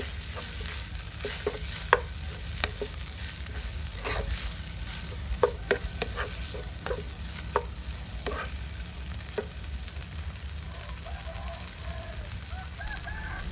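Papaya strips and minced pork stir-frying in a pan, a steady sizzle broken by repeated scrapes and clacks of a spatula, with a rooster crowing faintly in the background toward the end.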